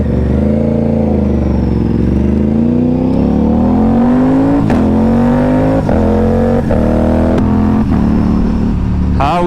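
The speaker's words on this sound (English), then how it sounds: "How is this sound coming from a 457? SE Project S1, no baffle, with Gabro's map" A loud 457 cc Aprilia RS457 motorcycle engine with a Gabro tune rising steadily in pitch as it revs hard through an SC Project S1 exhaust with no baffle, with sharp pops and crackles as it climbs.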